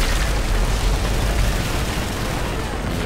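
RPG rocket explosions in the video game Call of Duty MW3 roar as a continuous, loud, broadband blast and rumble with heavy low-end booming, with no voices over it.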